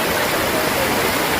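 River water flows down from a mountain in Mindanao as a loud, dense, continuous rush close by, steady throughout.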